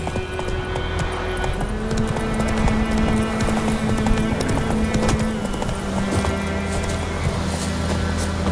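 Galloping horse hooves in the video game The Witcher 3 drum in a continuous, steady clip-clop rhythm, loud and close, with wind-like rushing noise beneath and no talk.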